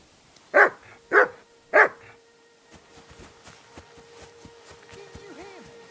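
Three loud, evenly spaced barks from a dog in the video game Knight Cluedo, close and clear, followed by quiet game ambience and faint tones.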